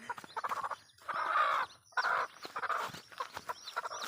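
A chicken clucks and squawks close by in short bursts, with a few longer drawn-out calls between quick clucks.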